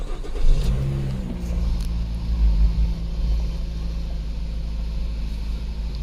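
A 2011 Nissan Rogue engine, running rough, turns over, catches and revs up, then settles into a loud, steady running rumble close by.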